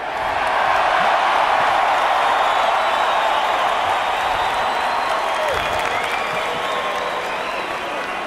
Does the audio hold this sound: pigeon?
no